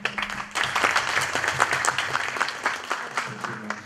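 Audience applause at a university rector-student meeting, a dense wash of clapping sustained throughout, fairly loud and filling the space.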